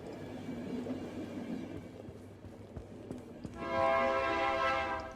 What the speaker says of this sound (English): that, good timing, is the signal that you've arrived at the next station